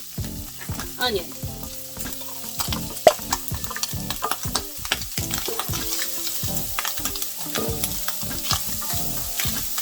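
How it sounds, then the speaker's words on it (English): Onions sizzle in a pan for stuffed pasta shells while a spoon stirs them, a steady close crackle broken by frequent scraping and clinking strokes against the pan. "Now, we're going to go ahead and add in some onions."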